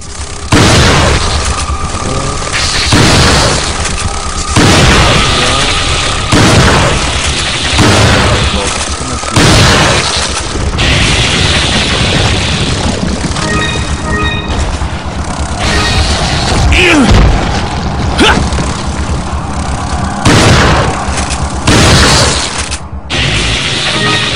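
Shotgun blasts from the game Resident Evil 4, heavy booming shots repeated at a steady rhythm over constant game music and effects, loud and close with some mechanical clatter between shots.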